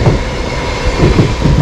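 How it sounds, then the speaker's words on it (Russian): An electric commuter train pulling out of a station near Lazarevskoye, Sochi, heading toward Tuapse: a loud, close rumble of wheels and carriages with rhythmic clacking pulses, steady and heavy throughout. "А эта электричка выехала только-только с вокзала."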